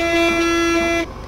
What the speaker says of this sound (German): die Hupe klingt ja auch geil